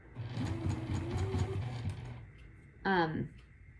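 Bernina sewing machine stitching fabric while quilting a strawberry garden block, a steady low mechanical whir with rapid stitch rhythm running for about a second and a half, then stopping before a brief spoken phrase.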